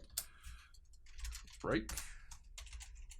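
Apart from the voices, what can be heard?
typing PHP code on a computer keyboard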